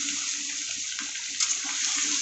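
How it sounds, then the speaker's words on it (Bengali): A tap runs in a steady, close stream as raw chicken is washed for a curry, with some splashing and no talking. "এবারে মাংস ধুয়ে দেবো।"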